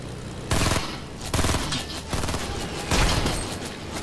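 Bursts of gunfire in a Fortnite duo match come as four loud, close volleys of rapid shots spaced roughly a second apart, over a constant busy game background, with no talking.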